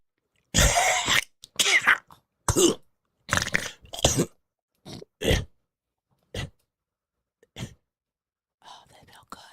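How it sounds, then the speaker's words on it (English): A talk-show host clears their throat in a series of short, harsh, close bursts, separated by brief silences and softer breathy noises near the end. "I think I need to pause for the calls. I really do. And clear my throat."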